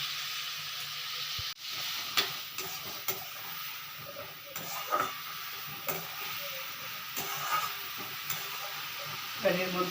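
Cut bottle gourd pieces frying in a pan with turmeric for a fish-head curry, a continuous soft sizzle broken by repeated clacks and scrapes of stirring, close by.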